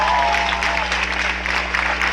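A crowd at a Cuban event claps steadily for a couple of seconds, a loud wash of applause with a faint voice tone audible at the start.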